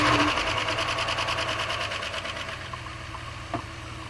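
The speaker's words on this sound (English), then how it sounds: "Does she crank? Oh, we're turning." A 1997 Dodge van engine cranks over without starting, a rapid rhythmic whirring of the starter that runs steadily for several seconds, close and fairly loud, ending with a brief click.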